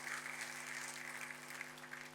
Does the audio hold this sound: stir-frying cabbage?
no